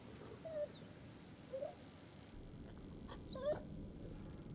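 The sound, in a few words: dog whimpering in video game The Devil In Me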